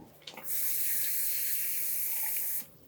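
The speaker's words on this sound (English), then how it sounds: "now we want to put some water in." Tap water pours steadily into a cooking pot for about two seconds, a close, smooth rushing stream that starts and stops abruptly, with no talking.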